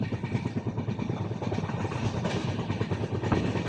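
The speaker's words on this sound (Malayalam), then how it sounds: "കുന്താപുരയിലൂടെയാണ് ട്രെയിൻ ഇപ്പോൾ കടന്നു പോകുന്നത്." A passenger train passing through Kundapura on the Indian coast, a continuous close rumble with rhythmic rolling clatter of wheels throughout, no talk.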